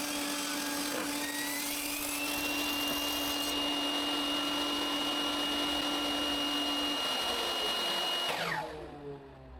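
A power saw cuts wooden pieces to length for a kitchen knife rack, a steady loud whining drone that holds for about eight seconds before spinning down and fading at the end.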